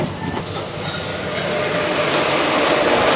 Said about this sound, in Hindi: तो ये लीजिए, हमारी ट्रेन विजयवाड़ा से निकल चुकी है।